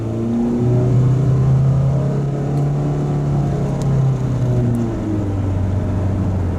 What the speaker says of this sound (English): Let's hear that engine.